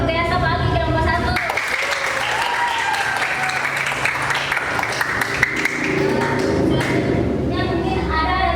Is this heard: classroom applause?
yes